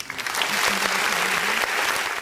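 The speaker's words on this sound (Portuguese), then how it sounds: "Galera da edição, por favor, botar aplausos" A short burst of applause, a small group clapping steadily and close for about two seconds.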